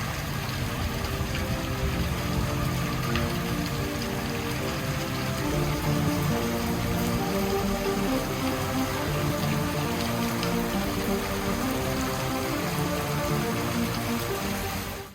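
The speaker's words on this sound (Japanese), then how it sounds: "急に雨降って" Steady rain falls continuously over the full span, likely drumming on and around a 20-year-old Ford F-350 pickup, a dense, even hiss with no talk.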